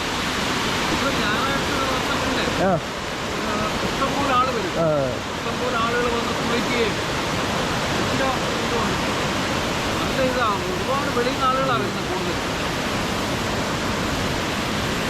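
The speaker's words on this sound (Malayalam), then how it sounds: "ഇതാണ് കേട്ടോ കൊല്ലത്തെ കുറ്റാലം വെള്ളച്ചാട്ടം എന്ന് പറയുന്നത്" Kuttalam waterfall in Kollam roars as a constant broadband rush of falling water, loud and near, with people's voices talking over it now and then.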